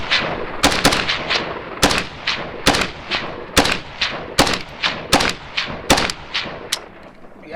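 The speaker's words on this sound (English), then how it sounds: "Let's see if AK-47 does what it does best, which is shoot always." Rapid single shots from an AK-47 rifle fired after the weapon was soaked in water, about fourteen sharp, loud cracks at a steady, slightly uneven rhythm, each with a short echoing tail and no talk over them.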